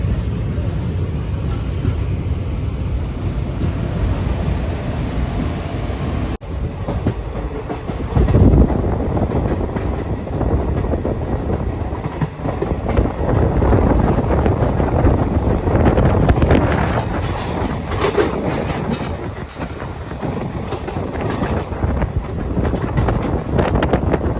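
An Intercity Express passenger train between Tirupati and Tiruvannamalai moves at speed, heard from on board as a loud, continuous rumble with rattling wheels and gusts of wind noise.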